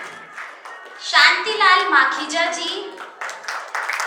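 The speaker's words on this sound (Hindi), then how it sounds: "तालियां रुकनी नहीं चाहिए" Audience claps at a felicitation and honours ceremony as a man on a microphone reads out guests' names, the clapping running beneath his voice and swelling in the middle.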